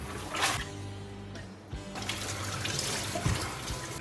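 Cordyceps flowers are rinsed by hand under running water in a kitchen, with close splashing and steady water flow for a few seconds.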